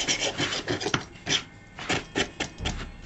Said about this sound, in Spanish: podemos rascarlo para quitarlo